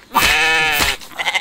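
Goat or sheep in the survival game The Infected letting out a loud, drawn-out wavering bleat, followed by a second shorter call and a few softer trailing sounds.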